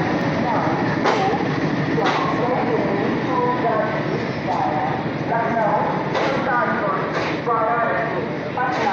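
An Indian Railways superfast express, the New Delhi–Rajgir Shramjeevi Express, rolls into Bareilly Junction platform 1, with loud steady rumble and repeated rhythmic wheel clacks over rail joints. Voices are heard under the noise.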